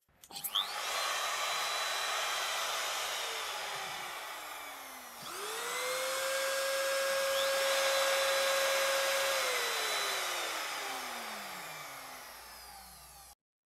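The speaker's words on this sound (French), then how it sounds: "la différence de bruit" A Makita trim router whines loudly at full speed, spinning up, holding a steady high pitch, then winding down before starting again, with no voices.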